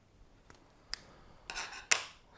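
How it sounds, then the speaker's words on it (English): Scissors snipping the tag end of fishing line on a two-hook paternoster sea fishing rig, a few short, sharp, close cuts and clicks with quiet pauses between them. "just trim your tag end off"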